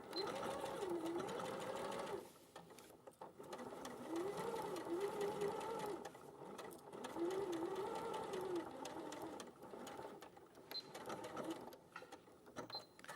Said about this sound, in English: I'm going to stitch up to my first lot of stitching, then I'm going to flip it that way, and I'm going to stitch that bit together